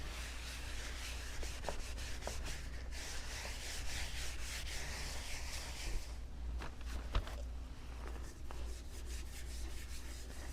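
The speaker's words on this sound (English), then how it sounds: "that sanding's taking some of the top coat off that we sprayed on" Steady hand sanding on painted, sprayed-finish wood, a continuous scratchy rubbing with repeated back-and-forth strokes, close up and alone.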